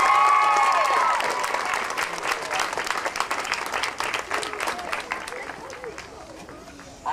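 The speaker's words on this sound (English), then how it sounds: "would like to give a big round of applause right now to the city of Norton" Outdoor crowd applause at a school walk event, a loud, steady wash of many hands clapping that tapers slightly over several seconds, with some voices in the mix.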